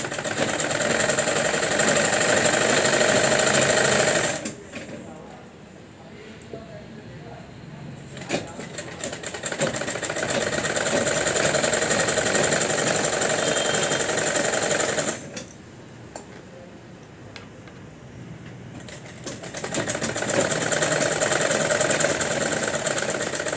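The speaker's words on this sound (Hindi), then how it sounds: "यहाँ तक मैंने सिलाई लगा ली हमारे कट तक" Sewing machine stitching a Punjabi-style patiala salwar, a steady buzzing run of stitching that stops twice briefly before resuming, with someone talking softly in the pauses.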